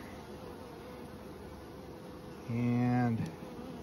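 Honey bees buzz at a newly hived swarm where a queen has been released, a steady low insect hum running throughout with a louder, closer drone swelling for a moment near the end.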